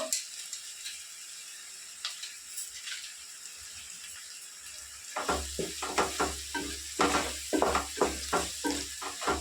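Spices, tomato and salt frying in a pan for a seaside-style fish curry, faint at first, then a loud crackling sizzle with rhythmic stirring scrapes over the second half.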